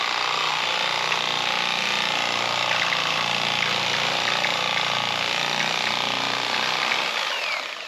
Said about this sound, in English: Get one of these old turkey cutters, electric knives. It's dirt carving away.